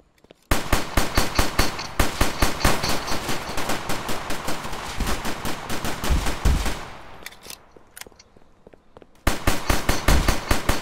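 An automatic Glock with a switch fires in Roblox game Tha Bronx 2, loud and close in rapid sustained bursts that break off briefly, then resume in another fast stream of shots.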